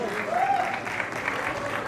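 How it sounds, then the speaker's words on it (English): Audience applause at a prize distribution closing ceremony, a steady dense clatter of many hands clapping throughout, moderately close and continuous with no break. "A huge round of applause for him"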